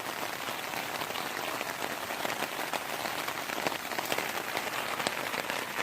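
Heavy rain pours steadily onto a woodland campsite, a dense and continuous hiss with scattered sharper drops pattering close by and no voices.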